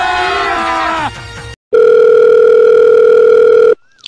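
A telephone dial tone while placing a call: a loud, steady continuous tone lasting about two seconds, following a brief earlier tone and cut off abruptly.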